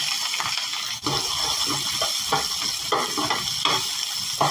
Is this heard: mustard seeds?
yes